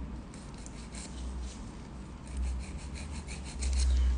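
Close, soft rasping of sanding on a dental preparation, a series of quiet scratchy strokes in an irregular rhythm with a low background rumble.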